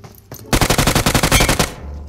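AKM assault rifle firing in PUBG Mobile, a rapid automatic burst of about a dozen loud, evenly spaced shots lasting just over a second, preceded by a single shot and followed by a short tail.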